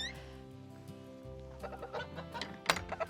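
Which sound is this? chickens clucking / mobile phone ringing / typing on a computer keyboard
chickens clucking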